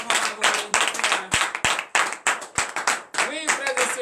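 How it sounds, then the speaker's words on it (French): A church congregation at a morning prayer service in Benin claps loudly and rapidly, a dense burst of applause with cheering voices mixed in. "acclame tes très fort"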